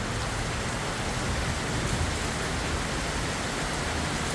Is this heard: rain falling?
yes